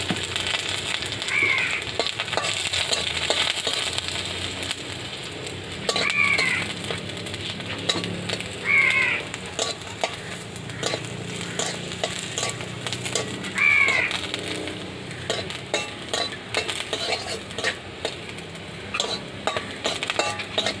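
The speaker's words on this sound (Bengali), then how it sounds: "রসুনটা লাল করে ভেজে নেব, তারপরে ধুনে কালো জিরে একটুখানে তেল দিয়ে ভাজি।" Garlic, coriander and nigella seeds fry in oil with a steady broadband sizzle, punctuated by occasional stirring scrapes and a few brief high chirps, close and continuous with no talking.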